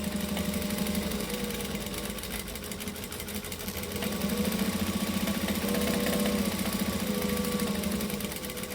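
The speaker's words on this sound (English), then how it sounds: "I'm going to stitch really close to the edge" A sewing machine stitching close to the edge of fabric runs in a steady, fast, close-up mechanical hum with rapid needle clatter, continuous for the whole stretch.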